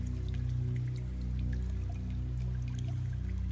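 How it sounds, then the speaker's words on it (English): Steady flowing, trickling water with scattered drips, heard alone throughout at moderate level, played as ambience in a tabletop roleplaying game as a tunnel scene unfolds. "you all start to hear this water sound not coming from Gek"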